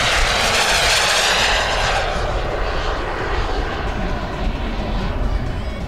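A model jet aircraft powered by a Viper turbine, all composite, flying at a Weston Park display: a loud, steady turbine roar and whine holding throughout, with a slowly shifting tone as it passes and no speech.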